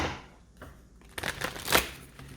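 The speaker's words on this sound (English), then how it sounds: "one more shuffle and then we'll get going" Tarot cards shuffled by hand during a pick-a-card reading: soft riffling and flicking bursts building to a louder flurry near the end, close and quiet with no talk.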